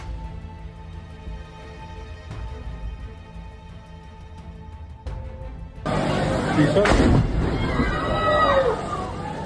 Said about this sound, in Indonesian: terjadi ledakan dalam kebakaran ini